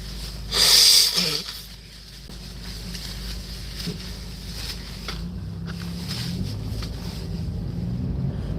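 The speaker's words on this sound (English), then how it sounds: "Dude, I gotta blow my nose, man." A person blowing their nose close to the microphone, one loud forceful honk in the first second and a half, followed by quiet rustling and steady background hiss.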